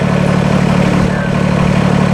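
A 2013 Kubota BX25D compact tractor engine idles steadily, a loud, close, even low-pitched drone with a constant rhythmic throb and no change in pace.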